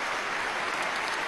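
Steady applause from a television studio audience, continuous and fairly soft throughout the short span.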